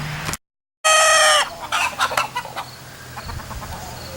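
A rooster crows loudly and close up, followed by hens clucking in short, uneven bursts around a farmyard.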